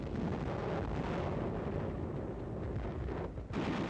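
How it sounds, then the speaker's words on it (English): Dense, continuous rumbling roar of enemy artillery shell fire against armored units on the ridgetops in the Battle of Okinawa, Shuri line, 1945, with booming low noise throughout and a brief dip near the end, no talk. "Heavy and accurate enemy shell fire from artillery emplacements on the ridgetops has been effective against our armored units."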